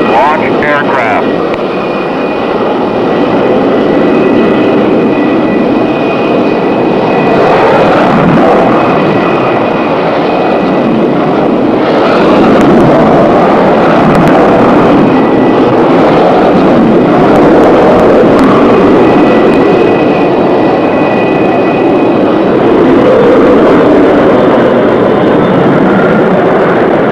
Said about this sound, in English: Launch aircraft.